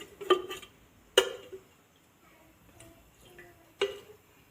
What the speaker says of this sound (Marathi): गॅस पेटवूया